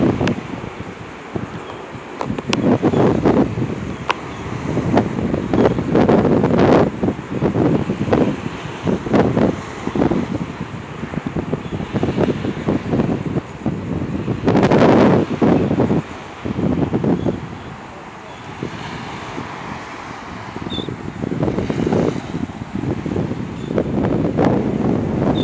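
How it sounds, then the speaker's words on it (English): Wind on a beach with rollers coming in over seagrass, heard as heavy gusty buffeting against the microphone, rising and falling in loud surges throughout with a dull wash beneath. "it's sort of a windy day"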